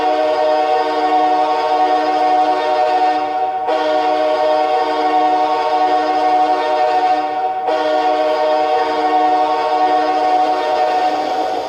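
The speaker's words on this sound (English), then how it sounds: "I do like that horn because it sounds like a train" A hockey arena goal horn blares in three long, loud chord blasts, each separated by a brief break, with the deep, brassy, train-like tone carrying throughout.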